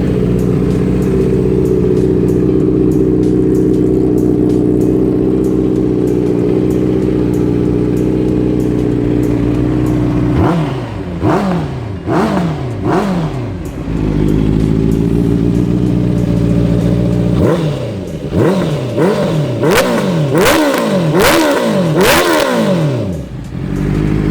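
Honda CB650F 2017 motorcycle with an aftermarket full exhaust idling steadily, then blipped in two bursts of sharp, loud revs that rise and fall, close to the bike, with no talk.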